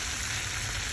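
Chicken wings coated in maida flour and breadcrumbs frying in hot oil, a steady dense sizzle that holds evenly throughout, close and continuous with no voices.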